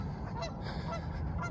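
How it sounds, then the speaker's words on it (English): Geese on the roof of a retired transit bus honk in an early-morning outdoor setting, giving several nasal calls over steady background noise at a moderate distance, with no one talking. "there's geese on the roof."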